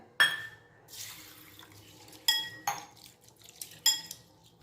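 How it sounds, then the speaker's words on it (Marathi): Dal is rinsed in water in a vessel, producing soft sloshing and swirling with a few sharp clinks of metal and glass. The sounds come in separate close bursts over a quiet background. "आता डाळ पण धुवून घेऊया"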